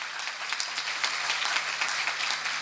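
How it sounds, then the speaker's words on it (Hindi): A crowd claps in sustained applause at a New Year church sermon, a dense patter of many hands that holds steady throughout. "जोरदार तालियां"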